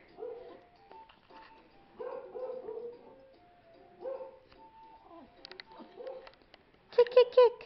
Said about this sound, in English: There's Bailey barking